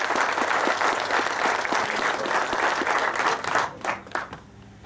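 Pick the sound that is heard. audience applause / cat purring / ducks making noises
audience applause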